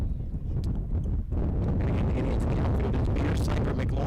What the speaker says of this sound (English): A bit windy though. Wind blowing out.